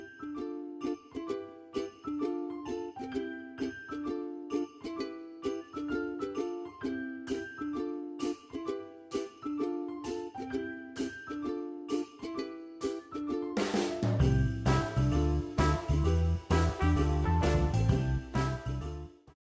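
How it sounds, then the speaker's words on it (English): Dollar Tree bells jingle in a steady repeating rhythm of bright metallic tinkles, then shift to a denser, fuller jangle toward the end, with no talking. "For my next DIY, I picked up these Dollar Tree bells."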